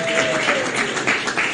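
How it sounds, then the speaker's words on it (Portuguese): A church congregation applauds together in steady, dense clapping that fills the room without a break. "Palmas para Jesus, irmãos."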